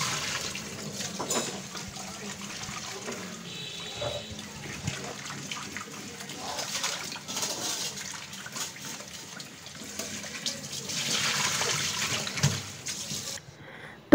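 Koi fish being rinsed and rubbed with salt in water in a home kitchen, giving a steady run of splashing and trickling water with brief louder swishes, moderately close and without talk.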